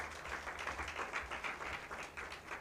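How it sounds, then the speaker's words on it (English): A conference audience gives a keynote speaker a short round of applause, dense rapid clapping held at an even, moderate level throughout. "a big round of applause for Josephine"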